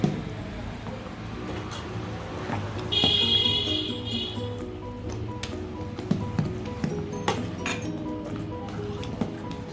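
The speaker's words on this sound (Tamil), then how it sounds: "இப்போ நல்லா கலக்கி விட்டுக்கலாம்." Paniyaram batter made from black kavuni rice is stirred in a bowl, giving close, soft wet squishes and light clinks of a utensil against the rim, with a louder burst of mixing partway through.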